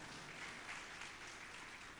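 An audience at a religious discourse by a Jain acharya claps steadily, a continuous and fairly faint wash of applause heard from a distance.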